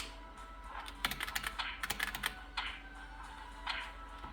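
Computer keyboard keys clatter in quick irregular bursts for fighting-game inputs in Lost Saga, close and fairly quiet, with no talk.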